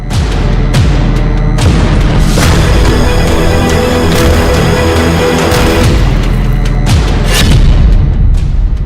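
A Houthi strike on Israel brings loud, deep booms and blasts rolling over one another, with repeated impacts and a constant heavy rumble that lasts the whole stretch.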